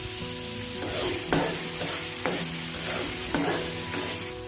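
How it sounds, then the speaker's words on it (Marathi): Onion fries in hot oil, a loud constant sizzle cut by regular stirring strokes about once a second, each a crisp scrape over the bubbling, with a faint steady hum beneath. "आता सुरुवातीला आपण तेलामध्ये कांदा व्यवस्थित भाजून घेऊया।"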